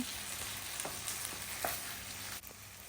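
White chickpeas being stirred and fried with spices give a dense, continuous close sizzle, with a few faint scrapes of stirring scattered through the steady hiss and no voices.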